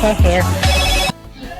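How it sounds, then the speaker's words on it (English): A telephone rings with a short electronic ringtone, loud and close, cutting off abruptly near the end. "you heard that ringing at the end there"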